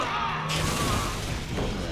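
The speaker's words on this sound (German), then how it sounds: "Da flog auch wieder eine Granate." A grenade blast in the zombie shooter Resident Evil 6: a loud, full-band boom lands about half a second in and rolls on as a sustained rumble through the rest of the moment, with no voices over it.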